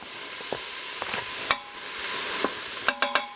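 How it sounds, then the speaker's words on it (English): Steady hissing sizzle of food frying in a pan, with a few sharp clinks and scrapes of a utensil stirring throughout. "you can hear that nice sizzle"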